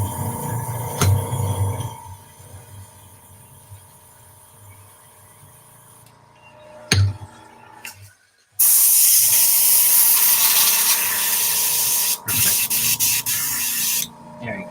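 An airbrush being cleaned blasts out leftover paint: a steady hiss comes and goes early on with a faint hum beneath, then a loud sustained spray takes over for the last several seconds, broken by a couple of short gaps.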